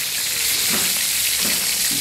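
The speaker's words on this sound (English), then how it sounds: "You practically hear the sizzle." Fresh marlin frying in a hot pan, a loud continuous sizzle and crackle with faint stirring movement, close and steady, no talk.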